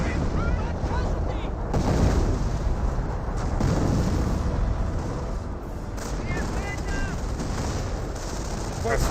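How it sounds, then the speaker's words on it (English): Gunfire and artillery in the World War II strategy game Company of Heroes: dense rifle and machine-gun bursts mixed with booming explosions, continuous and loud with no talking. "Rifle squad does receive a bit of fire."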